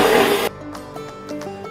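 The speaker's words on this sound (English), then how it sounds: "I'm using my hand mixer today because it's a quick and easy recipe, so you mix this together, the butter and the sugar" Electric hand mixer whirring through butter and sugar for a quick biscuit dough, a steady loud motor drone that stops abruptly after half a second, followed by faint kitchen noises.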